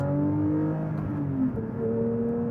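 A 992-generation Porsche 911 GT3 engine revs in short pitch rises and falls, heard steadily from inside the car at moderate volume.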